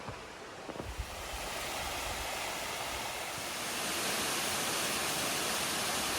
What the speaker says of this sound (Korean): 관음폭포입니다